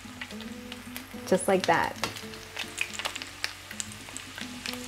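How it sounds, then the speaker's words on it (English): Rolled chicken tacos sizzle steadily in hot oil at 350 degrees Fahrenheit in a pan, a close continuous frying crackle with brief louder bursts as they go in, while a person speaks briefly. "The oil is hot. Now place the tacos into the oil."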